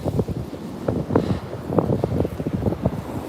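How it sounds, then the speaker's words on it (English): Wind blows hard across a Virginia Beach shoreline looking north, a continuous gusty rumble buffeting the microphone, loud and close, with no one speaking. "You probably hear the wind now."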